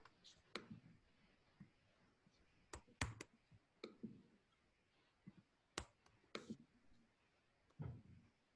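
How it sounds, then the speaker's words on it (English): Typing a polling question on a computer keyboard: sparse, quiet clicks and taps at irregular intervals over low room noise, with no talking. "I'm typing a polling question right now."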